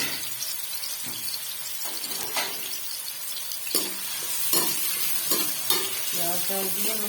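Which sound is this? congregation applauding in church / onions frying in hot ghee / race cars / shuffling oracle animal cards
onions frying in hot ghee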